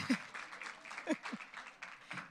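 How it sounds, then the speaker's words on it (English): A quiet audience at a Black History Month arts event gives scattered, light applause. The claps are few and spaced out, soft and somewhat distant. "Another round of applause for Aya Babas"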